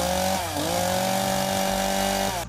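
A chainsaw engine runs loudly and steadily for a couple of seconds, its pitch dipping briefly near the start before holding at a constant high whine.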